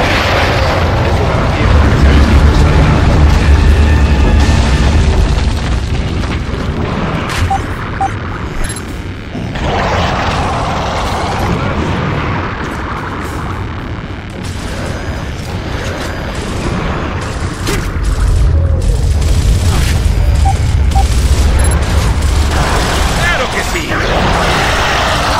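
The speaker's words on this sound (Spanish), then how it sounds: "¡Dispara el arma, soldado!" Heavy gunfire and booming explosions fill a combat scene in Gears of War, a dense, loud and continuous barrage of blasts and mechanical clatter with brief lulls between bursts.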